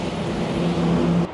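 Morning car traffic on Main Street in downtown Rochester, Michigan, passes as a steady engine and road roar, loud and near, with a low rumbling drone that cuts off abruptly near the end.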